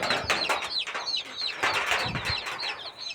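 Farmyard chickens, hens and a white rooster among them, cluck in quick, repeated bursts close by, with short squawks and a bit of wing movement and no talking.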